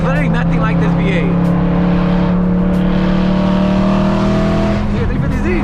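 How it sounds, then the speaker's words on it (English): A BMW E92 M3 V8 drives in traffic, heard from inside the car, with a loud, steady engine drone and deep sustained harmonics throughout, and a slight rise near the end. "There's literally nothing like this V8."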